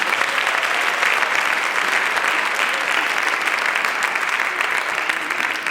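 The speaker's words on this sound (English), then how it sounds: "A round of applause, please." Sustained applause rises from an audience welcoming a band, many hands clapping in a thick, constant roar that stays level for several seconds.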